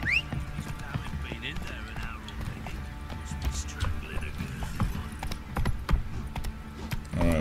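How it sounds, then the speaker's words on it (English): Horse hooves clip-clop at a trot alongside a brief whinny, set in a busy soundscape from the video game The Witcher 3: Wild Hunt with speech mixed in. "Let's call my horse."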